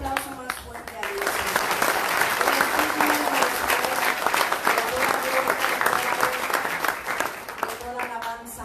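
A church congregation at a Spanish-language service applauds loudly and steadily for several seconds, dense clapping filling the room, with a voice and a few sung or spoken tones rising over the clapping at the start and end.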